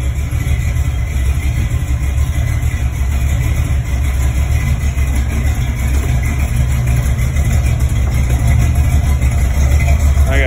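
1966 Ford Mustang engine running at idle, a steady close, loud low rumble that holds constant without revving for about ten seconds.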